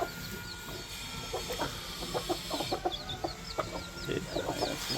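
A hen and a wild junglefowl rooster cluck nearby in quick, irregular bursts of short clucks, with faint higher chirps over a quiet background hiss.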